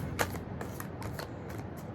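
Oracle cards from a Liffruma Healing Oracle deck are shuffled by hand, giving several quick riffling bursts in an uneven rhythm, close and fairly soft.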